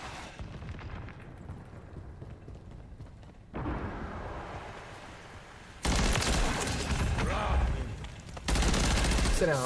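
Video game gunfire comes in sustained bursts of rapid shots, loud and dense, building in sections and growing stronger toward the end, with a voice occasionally heard under the shooting.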